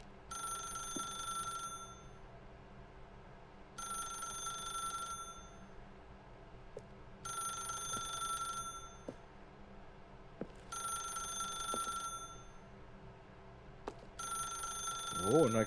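An old-fashioned telephone rings in The Stanley Parable video game, a bright electronic bell sounding in five evenly spaced bursts of about a second and a half each, steady and moderately loud over a faint low hum.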